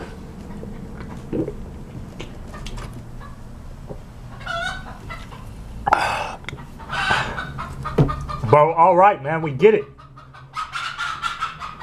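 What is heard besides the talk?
chicken clucking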